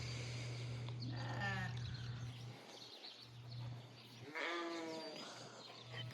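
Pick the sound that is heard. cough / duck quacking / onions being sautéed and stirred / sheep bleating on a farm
sheep bleating on a farm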